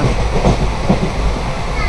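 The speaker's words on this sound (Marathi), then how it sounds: "ही बघ ट्रेन आली" Loud rumbling of a train rolling along the tracks close by, with a low steady roar and faint rhythmic clatter.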